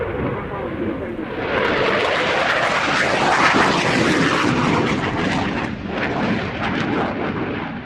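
An F-22 Raptor flying an airshow display gives a loud, rumbling jet roar that swells after the first second and stays powerful, with a roaring burst near the middle and a slight easing toward the end.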